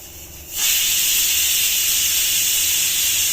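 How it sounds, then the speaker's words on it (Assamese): A pressure cooker cooking chicken rice on a gas stove lets off steam, starting with a sudden loud hiss that then holds steady and close with no talking. "প্ৰেছাৰ এটা মাৰিলে মই গেছটো অকণমান কমাই দিছোঁ"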